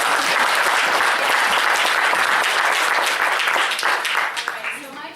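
Loud, dense clapping from a roundtable audience on the Owasco River trail, sustained and then thinning out toward the end.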